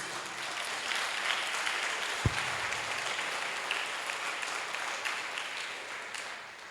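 A church congregation at a Portuguese-language service applauds, a broad, fairly distant wash of clapping with a single sharp thump partway through.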